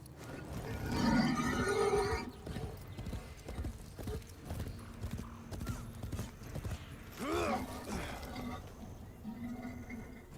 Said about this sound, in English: I'm gonna get on my horse and just run around looking for it.